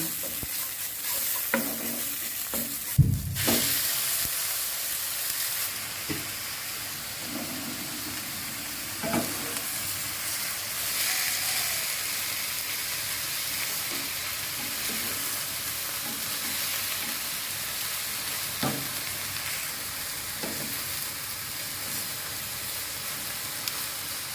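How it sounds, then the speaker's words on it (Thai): Continuous sizzling and hissing of shrimp and squid stir-frying in a little oil in a pan, with occasional scraping and clatter of a utensil stirring, close and steady throughout. "ใส่น้ำมันนิดเดียวคั่วให้หอมเฉย"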